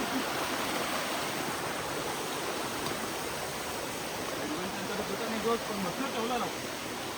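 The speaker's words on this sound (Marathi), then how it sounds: "हे सगळं पाणी नदीत जात आहे" Waterfall water rushing into a river near Jawhar, a steady broadband roar of flowing water close by, constant throughout with no pauses.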